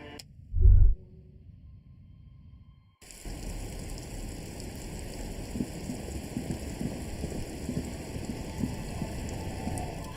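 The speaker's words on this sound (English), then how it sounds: "It's getting late, and it's raining." Steady night rain from a video game hisses evenly and fairly loud after a brief low thump and a quiet lull, continuing alone without voices.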